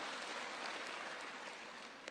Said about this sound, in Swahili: Asanteni sana, tuwapigie makofi.